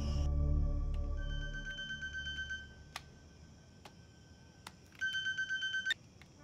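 A mobile phone rings with bright, repeated electronic ringtone bursts, one run early on and another near the end, after a brief low rumble at the start, with quiet gaps in between.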